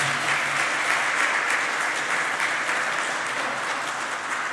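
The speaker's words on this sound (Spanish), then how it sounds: "Un aplauso al Padre y al Hijo y al Espíritu Santo," A church congregation applauds during a Sunday Mass, steady dense clapping filling the space at an even level throughout, with no voices on top.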